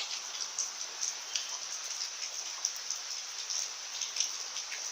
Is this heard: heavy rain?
yes